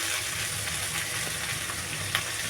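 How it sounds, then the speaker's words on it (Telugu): Spices such as turmeric and chilli powder are stirred into a bottle gourd and drumstick tamarind stew in a pan, with a steady close sizzle under faint scraping strokes, no talk. "ఇప్పుడు బాగా కలుపుకోండి కదా దీంట్లో కొంచెం పసుపు కారం రెండు స్పూన్లు"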